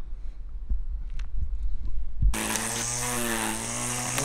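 A battery electric lawnmower starts abruptly after a quiet stretch of faint knocks, then runs with a loud, steady electric whine and buzzing hum while mowing the yard.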